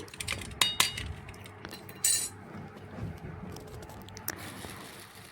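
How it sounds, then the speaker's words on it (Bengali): A spoon clinks and scrapes against a bowl while salt and black cumin are worked into a gram-flour batter, a few sharp close taps amid softer stirring noise, no talking. "একটু চামচ দিয়ে দেখুন এইভাবে লবণটা এভাবে একটু মাখিয়ে নিচ্ছি"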